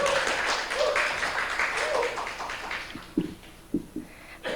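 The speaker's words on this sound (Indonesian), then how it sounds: "kita berikan tepuk tangan sekali lagi untuk Perpustakaan Institut Stiami" Audience applause at a library accreditation thanksgiving ceremony for Perpustakaan Institut Stiami in Jakarta, a broad wash of clapping that thins out and fades, leaving a few scattered louder claps near the end.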